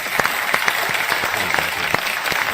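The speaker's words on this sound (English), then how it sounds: "let's give a hand for that class" Audience applause for a class at an indoor gathering, a steady wash of many hands clapping at close range with sharper individual claps scattered throughout, sustained evenly for a few seconds with no speech over it.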